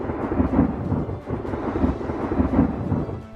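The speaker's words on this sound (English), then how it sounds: "They are also called rotating thunderstorms, and they are exactly as that sounds." Thunder from a supercell rotating thunderstorm, heard as a deep, continuous rumble with a steady hiss of rain and no voices.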